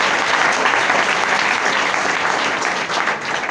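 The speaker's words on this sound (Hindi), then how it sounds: "इसके लिए भी जोरदार तालियां बजी।" Loud applause from an audience at a speech event in Saran, a dense continuous patter of many hands that stays strong and eases slightly toward the end, without speech.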